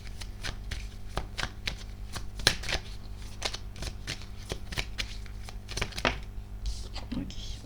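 Tarot cards riffle and slap in quick, close bursts of shuffling, followed by a few crisp single cards being drawn and laid down, with faint room tone throughout.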